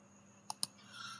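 Two quick, sharp clicks of a computer mouse sound close together near the middle, crisp and close over a quiet low hum.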